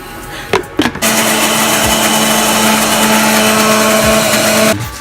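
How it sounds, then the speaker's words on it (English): A kitchen blender whirs loudly and steadily for about four seconds, blending fresh garden basil with olive oil into pesto, after a few brief knocks and clatters at the start. "It goes around the blender."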